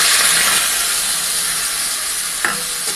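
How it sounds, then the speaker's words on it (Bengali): Fish fat frying in a little oil in a pan, a bright, dense hiss and crackle that holds steady throughout, with a brief clank of a utensil near the end. "মাছের তেলটাকে এখন ভাজবো"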